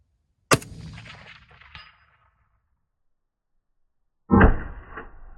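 Two sharp, loud rifle shots ring out from a Zastava PAP M77-PS, several seconds apart, each with a ringing decaying tail and the second shot standing alone after silence.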